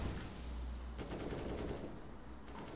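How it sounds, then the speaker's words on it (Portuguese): Sustained gunfire in a video game, steady bursts of rapid shots running without a break, loud and close, the texture of the firing shifting partway through, with no talking over it. "Tá dando tiro galera, só pra ver"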